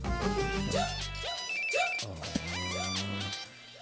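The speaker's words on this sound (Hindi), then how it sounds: "जब तक तू फोन नहीं उठाएगा वो फोन करता रहेगा" A mobile phone rings with an incoming call in a Hindi-dubbed South Indian action film, a loud repeating melodic ringtone playing in several rising phrases with no talk over it.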